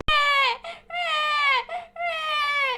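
An infant wails close by, three drawn-out cries broken by quick sharp inhales, loud and insistent.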